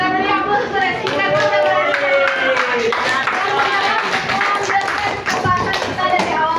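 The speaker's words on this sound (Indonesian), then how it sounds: "kita beri aplaus untuk Rizky" Classroom of children clapping together for a classmate, a steady dense patter of small hands running throughout with young voices chattering and calling over it.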